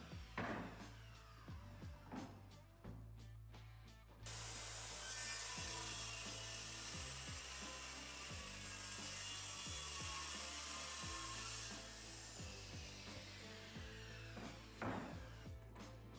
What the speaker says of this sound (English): Now I'm going to rough cut it down with my circular saw into manageable sections that'll fit inside my router sled.